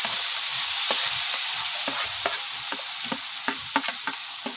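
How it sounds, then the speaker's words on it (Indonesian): Ground spice paste sizzles and crackles steadily in a hot pan of oil while being stirred, with scattered scraping clicks of a utensil over a continuous frying hiss, close and fairly loud, for gulai tunjang, a Padang-style stew. "Kita tumis dulu bumbunya sampai benar-benar harum ya teman-teman."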